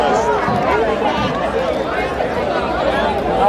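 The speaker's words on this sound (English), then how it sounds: "Look at the crowd that we have here." Dense crowd chatter fills the night street at the Our Lady of Mount Carmel Feast Giglio lift in New York, a steady, loud babble of many overlapping voices with no pauses.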